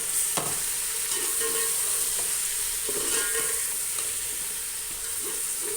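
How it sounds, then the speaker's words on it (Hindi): Tomatoes, green chillies, whole garlic and ginger, and dry spices fry in a pot for Arabian machboos rice, a steady close sizzle with occasional stirring scrapes and clinks throughout, no voices. "अब जो है मैं इसको अच्छी तरह भून लूँगी"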